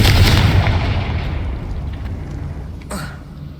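A Confringo blasting spell in Hogwarts Legacy sets off a loud, booming blast that decays into a rumbling tail, with a sharper crack near the end.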